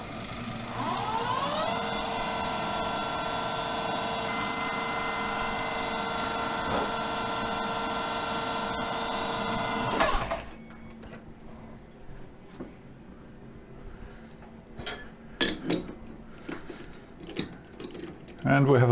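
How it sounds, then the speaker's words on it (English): A lathe bores a counterbore with a tiny carbide boring bar while making a flux capacitor dampener part, giving a steady, loud machining whine for about ten seconds that cuts off, followed by quieter clinks and scattered knocks. "Next tool is a tiny, tiny carbide boring bore for the counter bore."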